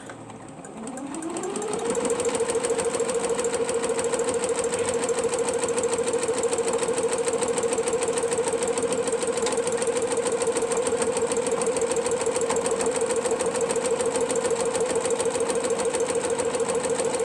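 A sewing machine stitches quilt pieces, its motor spinning up over about two seconds into a steady, fast, even whirring hum. It is close and fairly loud, and there is no talking.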